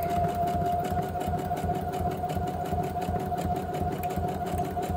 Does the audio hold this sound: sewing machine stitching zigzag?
yes